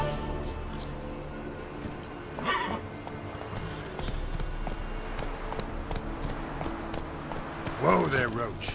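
Roach the horse in The Witcher 3 clip-clops along steadily, moderately near, with a couple of whinnies and a voice speaking over the hoofbeats.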